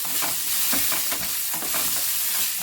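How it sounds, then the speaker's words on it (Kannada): Green chillies sizzle and crackle steadily in a hot pan as a spatula stirs them, the continuous frying hiss loud and close with soft rhythmic scraping strokes throughout. "ರೋಸ್ಟ್ ಮಾಡ್ಕೊಳ್ಳಿ ಸೀದೋಗಬಾರ್ದು ನೀಟಾಗಿ ರೋಸ್ಟ್ ಆಗಬೇಕು"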